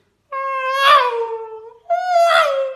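A voice imitates a passing Formula 1 car with two whining vocal bursts, each swelling and then dropping in pitch, loud and close.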